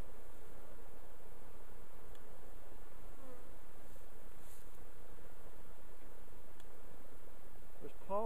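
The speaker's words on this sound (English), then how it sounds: "we're going to knock off bees off the middle honey bars" Honey bees hum around an opened hive during an early winter inspection, a steady close drone with faint rustling and a brief scrape near the end.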